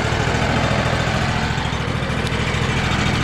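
A Kohler 25 horsepower engine on a Cooks MP32 portable sawmill idles steadily in a shop, a loud, continuous low rumble with a constant mechanical drone and no talking.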